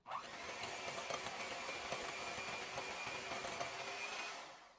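A steady, loud motorized whir like a hand mixer or blender runs continuously for several seconds while baking soda and salt are mixed in a bowl in a home kitchen during banana bread prep, ending abruptly.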